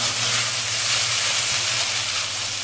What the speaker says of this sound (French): vous laissez donc saisir encore 2-3 minutes pour que les oignons commencent un petit peu à dorer